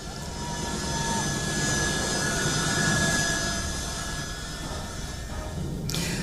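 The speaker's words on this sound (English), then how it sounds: "United States C-17 Globemaster, which is a large military aircraft, prepares to take off" A large US C-17 Globemaster military transport jet prepares to take off at an airport, its engines giving a loud, steady roar that swells slightly and holds, with no voices over it.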